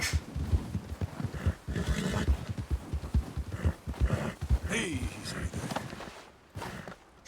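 A white Arabian horse in the video game Red Dead Redemption 2 moves with soft hoof clops and snorting breaths under someone talking in Turkish, with a brief whinny-like rise partway through.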